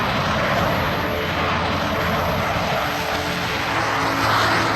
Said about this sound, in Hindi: राफेल को मौजूदा वक्त में दुनिया के सबसे शानदार लड़ाकू विमानों में गिना जाता है